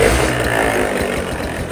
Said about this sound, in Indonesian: dengerin mesinnya, nyaris hampir tak terdengar